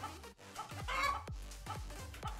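A hen clucks repeatedly in a quick, rhythmic series of short, close, fairly loud clucks, with a brief higher squawk in the middle, from a chicken catapult game.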